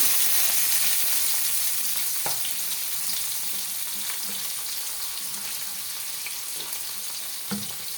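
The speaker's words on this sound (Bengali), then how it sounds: "পেঁয়াজ আর রসুনটা ভালো করে ভেজে নিতে হবে" Whole garlic cloves and black cumin seeds fry in a little oil for a fish-oil curry, giving a steady close hiss of sizzling with a few faint clicks of stirring, no voices.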